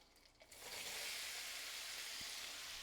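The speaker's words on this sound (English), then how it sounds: "they sizzle" Gnocchi going into a hot frying pan and sizzling, a steady broad hiss that swells after a quiet start and holds loud and close, with a small tap near the end.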